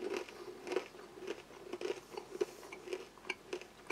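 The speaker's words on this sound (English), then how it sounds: "I'm just going to try one of these simple Lithuanian crackers." A salted plain white Lithuanian wheat cracker, harder than usual, is bitten and chewed close up, giving a run of crisp, evenly spaced crunches at a steady chewing rhythm.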